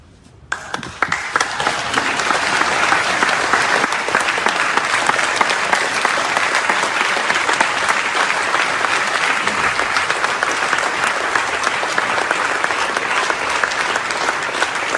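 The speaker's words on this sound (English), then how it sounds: "Yeah, a standing ovation for that." Loud, sustained applause from a large audience giving a standing ovation, steady dense clapping filling the whole stretch with a few faint cheers mixed in.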